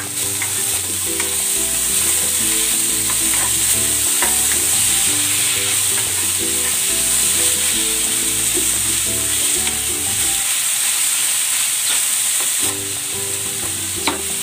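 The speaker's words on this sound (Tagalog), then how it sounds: "Ilalagay ko na tong sibuyas. At ang kamatis." Chopped onion and tomato sizzle hard in a hot pan, a loud, steady hiss that runs throughout alongside tonal background music, with one short dip in the music near the end.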